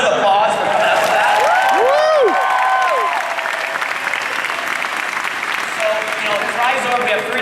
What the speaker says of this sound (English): Round of applause for coming up with that.